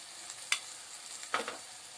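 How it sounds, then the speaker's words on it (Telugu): Tomato and onion paste with chili frying in a pan for a Konaseema-style bommidala pulusu: a soft, steady sizzle with two brief louder spatters as the paste is stirred, fairly quiet and without talk. "ఇప్పుడు టమాటా, ఉల్లిపాయ పేస్ట్ వేస్తున్నాను. దీంట్లోనే ఇంకొంచెం కారం వేస్తున్నాను"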